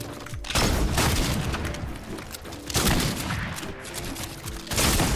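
Video game gunfire, several sharp bursts of shots and booms arriving in clusters with short pauses between, loud and close over a busy game background.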